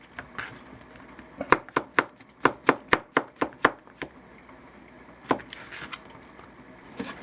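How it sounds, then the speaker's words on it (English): Vegetables chopped on a cutting board with a knife: a quick run of about a dozen sharp, evenly spaced thuds, then a pause and a few more scattered cuts, close and clear with no talking. "I'm going to get these chopped up."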